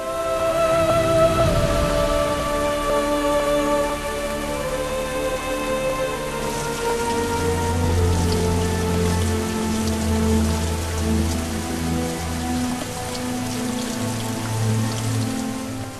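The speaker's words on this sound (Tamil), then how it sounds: "விடாமல் பெய்த மழையால் நிரம்பின நீர்நிலைகள்" Heavy rain pours down steadily in Chennai, a dense, constant hiss of drops striking surfaces, loud and unbroken with no voices.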